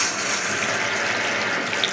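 Running water rinses perm lotion out of curly permed hair, a steady close splashing rush with no voices.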